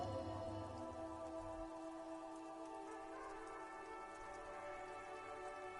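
Rain falls steadily in Disco Elysium, a faint, even patter with dense drops and no voices over it.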